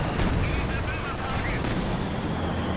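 Mortar fire from a Company of Heroes 2 battle: continuous dense rumbling blasts and crackling gunfire throughout, loud and busy, with a voice talking over it.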